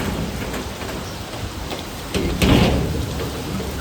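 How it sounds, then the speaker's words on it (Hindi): Heavy rain pours down steadily in a dense, hissing roar, with a few louder splashes and thumps rising briefly near the end. "इधर में बारिश बहुत तेज़ हो रही है"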